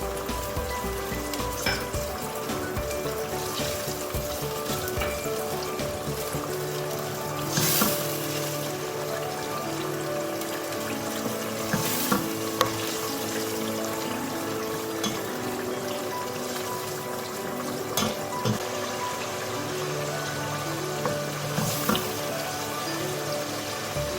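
Eggs and chickpeas simmer in a spiced gravy with crushed coriander, giving a steady soft sizzle and bubbling throughout, with occasional louder pops and spatters, close and alone with no talk.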